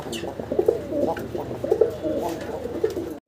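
High-flyer fancy pigeons at a pigeon farm coo in repeated low, throaty phrases, close and fairly clear, with faint voices in the background.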